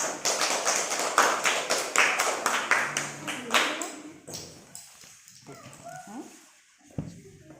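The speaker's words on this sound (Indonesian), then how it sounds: "Coba kita beri aplaus atau tepuk tangan untuk Sela dan kelompok 2" Students in a classroom applaud a student group with a burst of rapid clapping that fades out after about four seconds, followed by quieter murmuring and voices.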